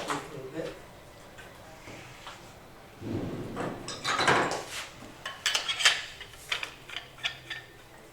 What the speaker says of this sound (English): I'll simply now take a bowl gouge and cut most of this off